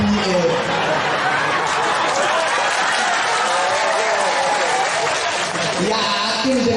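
Audience at a Ramadan Islamic religious lecture (pengajian) clapping and cheering with chatter and laughter, a dense steady crowd noise filling the whole stretch at close range.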